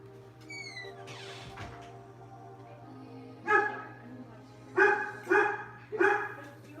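A dog at the home's front door barks in four sharp, loud woofs spaced about a second apart, after a brief high squeak and rustling, with a low hum underneath.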